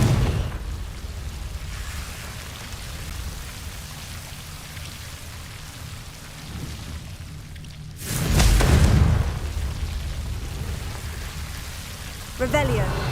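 A Confringo fire-blast spell bursts in the game Hogwarts Legacy as a sudden loud whooshing boom over steady rain-like ambience, followed by a smaller crackling burst a few seconds later; a voice speaks briefly.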